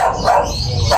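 A dog barks loudly and close by outdoors, two or three sharp barks packed into about a second, standing alone without any talking.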